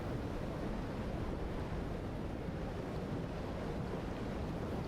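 A wave crashes and rushes in a steady, loud, broadband roar of surf and wind in Outer Wilds: Echoes of the Eye, with no talking.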